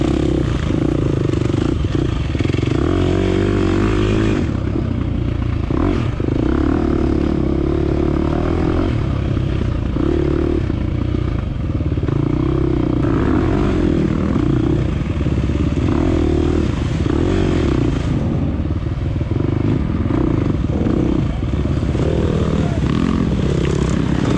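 A KTM 350 dirt bike races through a trail section of a hare scramble event, its engine loud and close throughout, revving up and down with clattering and scraping from the rough terrain.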